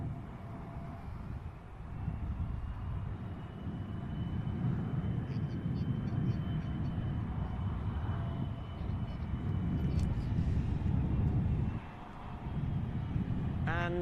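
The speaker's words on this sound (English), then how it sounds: "Got the Black Eagles taxiing back in from the left." Black Eagles jet aircraft taxi at an air show, a steady low engine rumble and whine at middle distance with faint wind noise and a brief dip near the end.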